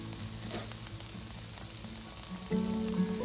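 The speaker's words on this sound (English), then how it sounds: "Then we'll be adding the broth about 3/4 of a cup at a time, stirring continuously." Broth is ladled into butternut squash risotto while a spoon stirs the pan. A close, steady frying sizzle runs throughout, with soft scraping, and a fuller bubbling swell comes in near the end.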